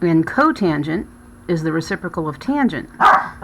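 A pet dog gives a short bark near the end while a person keeps talking over it in the foreground.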